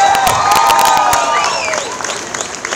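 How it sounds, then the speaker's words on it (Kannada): An audience at a film talk event claps and cheers together, producing dense, loud applause with shrill whistles rising over it that slowly tapers off. "ನೀವೆಲ್ಲರೂ ಅವ್ರಿಗೆ ಚಪ್ಪಾಳೆ ಸಿಗಬೇಕು"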